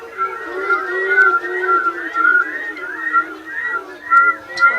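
A person whistles an imitation of a saw-whet owl call, a steady series of repeated short toots at an even rhythm, close and clear with no other sound.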